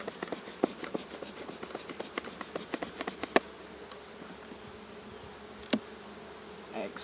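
Honey bees buzzing in an opened hive during an inspection, a soft continuous hum with individual bees droning past the microphone, fairly faint, plus occasional light clicks and handling sounds.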